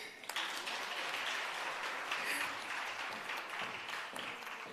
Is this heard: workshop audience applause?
yes